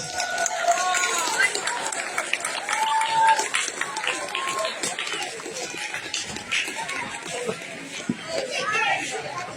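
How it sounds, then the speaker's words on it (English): Energetic applause from a large audience at a senior secondary school's annual function and farewell ceremony, dense and sustained for several seconds, with chatter and voices mixed into the clapping. "Give an energetic round of applause"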